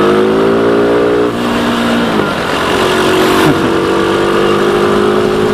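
A KTM motorcycle engine revs loudly nearby, rising and falling in pitch through several throttle blips with a raspy exhaust tone.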